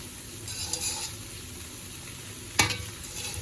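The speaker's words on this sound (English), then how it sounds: "we'll let the egg cook in the middle" Eggs fry in the centre of mamak-style mee goreng stir-fried noodles, a soft steady sizzle with one sharp clank of a utensil partway through.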